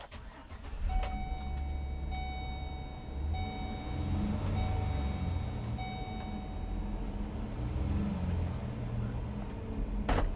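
A 2009 Chevy Express cargo van engine turns over with a click and then settles into a low, steady idle, quiet and close, with no voices.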